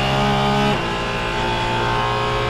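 Porsche Cayman GT4 RS Clubsport on a race track, its loud engine droning steadily close up under acceleration, with a brief shift in pitch partway through and no talking.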